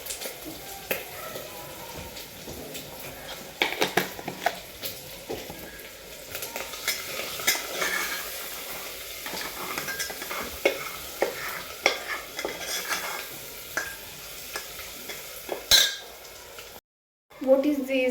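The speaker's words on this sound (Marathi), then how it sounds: "तर मी याच्यात तांदूळ टाकून ते मी मस्तपैकी परतून घेते." Rice is stir-fried in a pan, the spatula scraping and clinking against the metal in irregular bursts over a constant sizzle, with someone talking at times and a brief dropout of sound near the end.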